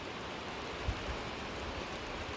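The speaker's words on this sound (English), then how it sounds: "It's still raining." Rain falls steadily outside on a farm, a soft even hiss of drops with a faint low thump, quiet and constant.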